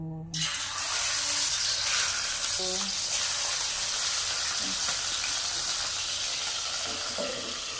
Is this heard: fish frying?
yes